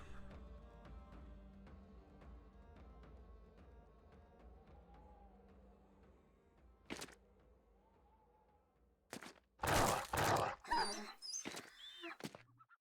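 A dog in the Battle Brothers video game whimpers and dies, a faint soft whine repeating rhythmically over game ambience, followed near the end by loud sharp bursts of combat sound effects.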